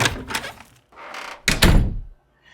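Someone tries a locked door in a house, the handle rattling and the door thudding against its frame in several hard, close bursts with brief pauses between.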